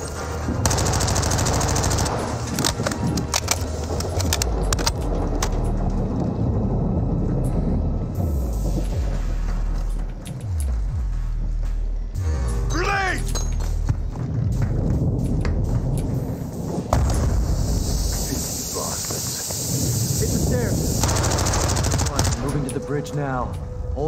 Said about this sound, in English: Now, hold your fire, Alejandro.